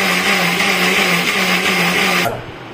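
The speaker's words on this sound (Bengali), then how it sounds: "জল দেব, আবার ঢাকনা দিয়ে আরেকবার ঘুরাবো মিক্সিটা।" A mixer grinder whirs loudly with its lid on, blending raw mango with water into aam panna. The steady high motor whine runs alone, then cuts off near the end.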